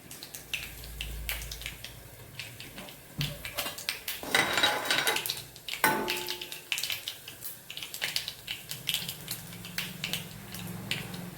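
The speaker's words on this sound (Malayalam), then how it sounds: "കടുക് പൊട്ടിയിട്ടുണ്ട്" Mustard seeds pop in hot oil in a pan: scattered sharp crackles and small snaps, sometimes bunching into brief bursts, over a quiet background with no speech.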